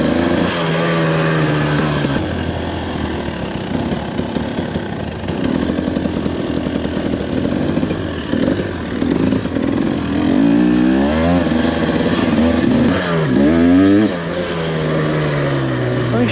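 A brand-new 2024 TE300 two-stroke dirt bike engine runs loud and close through the whole stretch, with rising and falling revs and sweeping pitch changes near the end, on a first ride in the Glass House Mountains.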